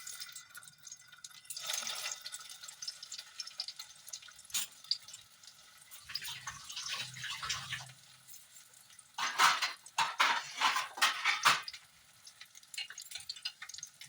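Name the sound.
stuffed pointed gourd frying in oil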